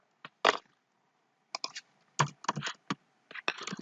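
Close, crisp keystrokes on a computer keyboard while code is typed into Eclipse IDE, coming in short irregular bursts of several clicks separated by brief pauses, with no talk.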